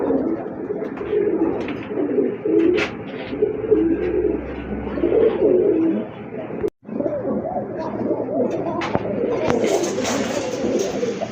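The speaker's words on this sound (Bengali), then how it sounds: "ব্লু শার্টিনের একটা বিগ সাইজের নট কবুতর" A big blue male Shirazi pigeon, offered for sale, coos in repeated soft, throaty phrases close by, with a brief break partway through and faint background bird and ambient noise.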